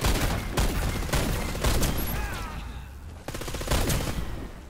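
Gunfire in Warface co-op spec-ops gameplay, bursts of rapid automatic fire alternating with short pauses, loud and close, with faint game effects between volleys.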